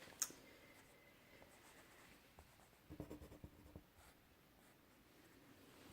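A pencil draws black lines on paper during a wolf eye drawing, faint close scratchy strokes in short bursts, with a soft knock near the start and a denser cluster of strokes midway.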